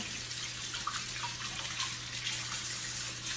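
Running tap water pours steadily over a juicer basket being rinsed, a continuous broadband splash with no voices, close and moderately loud throughout.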